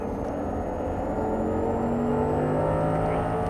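An Audi R8 accelerating hard on a race track, its engine note climbing steadily in a continuous rising whine and roar, heard from inside the car, loud and close with no talk.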